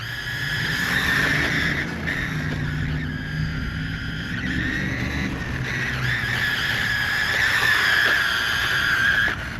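An MJX Hyper Go Ford Mustang Shelby GT500 RC car drifts on a street with a steady high electric motor whine and tyre scrub rising and falling across several slides. The sound is close and loud, with no talking.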